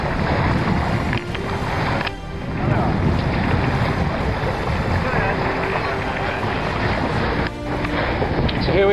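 Steady wind rush and water noise around a sailboat racing in the 2009 Cabrillo race, loud and continuous with buffeting on the microphone and brief dips, no clear speech over it.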